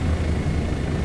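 Steady rotor and turbine drone of a Bo 105 helicopter in flight in Microsoft Flight Simulator 2024 over Niagara Falls, loud, continuous and unbroken, with no voices.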